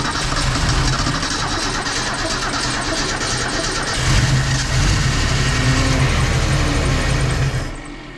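A 1973 Mercury Comet, parked for 29 years, fires up and settles into a steady, loud idle with a brief rise in revs midway, close to the car, before the sound drops off at the end.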